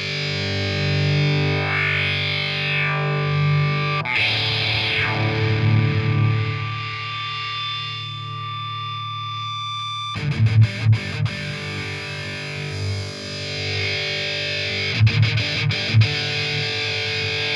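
An electric guitar played through a Dunlop MXR FullBore Metal distortion pedal: heavily saturated, sustained chords ring out and decay, then a new passage of chugging, palm-muted riffs with sharp stops, loud and close, with no talking.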